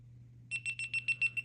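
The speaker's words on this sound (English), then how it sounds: "It'll give you the powering off indicator as well as a few beeps and the red blinking light" A GoPro action camera powering off gives a quick run of about seven short, evenly spaced high beeps, close and clear over a faint low hum, with no one talking.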